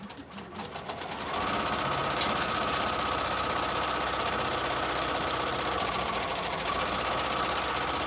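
Embroidery machine tacking down a fleece polar bear appliqué onto a fleece scarf, starting up and then running a steady fast mechanical stitching whir, close and continuous.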